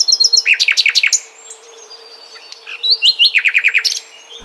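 Songbirds chirp in quick bright repeated trills, a burst of rapid tweets followed by a pause and another run of chirps, played back as a recording with steady low background hiss.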